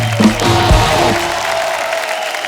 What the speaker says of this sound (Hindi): जोरदार तालियां गायत्री और पुष्कर के लिए